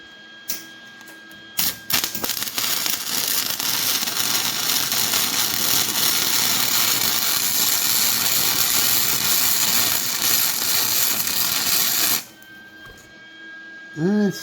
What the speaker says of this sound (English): They're only a MIG weld.